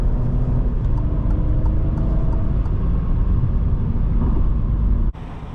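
A 2021 Alfa Romeo Giulia Ti pulls under light throttle, heard from inside as a steady low engine drone and road rumble that cuts off abruptly near the end.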